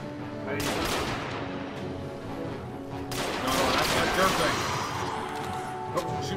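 Video game gunfire in Destiny rattles in rapid bursts, fairly close and loud, broken by short pauses, while a person talks over it.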